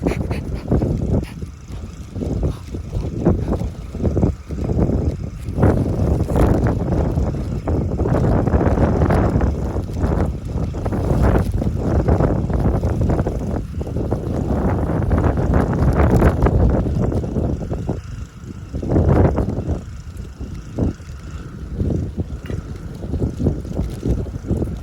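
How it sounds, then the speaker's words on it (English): Strong wind gusts steadily through a California almond orchard during pollination season, buffeting the microphone with a loud, continuous rumbling roar that rises and falls throughout. "Hey, it is super windy"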